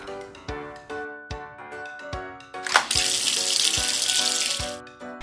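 Tap water runs into a sink while toy cars are washed, a gushing hiss starting midway after several sharp plastic knocks and clatters of toys being handled, fairly close and with no talk.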